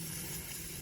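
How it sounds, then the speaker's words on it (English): Contact cleaner sprayed into a mass air flow sensor connector on a Honda Civic, a single close, steady hiss that ends abruptly. "I'm gonna spray a little bit contact cleaner inside here."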